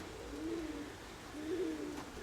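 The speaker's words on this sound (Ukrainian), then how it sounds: "це голубок якийсь сідає, бачу, гуркує" Pigeon cooing as it lands, two soft, low rolling coos about a second apart, faint against quiet background noise.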